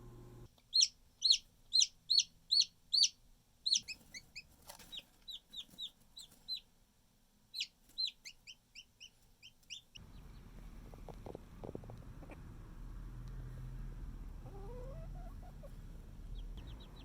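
Chickens making a quick run of bright, evenly spaced high chirps, then scattered softer calls, followed by a lower background murmur with faint clucks.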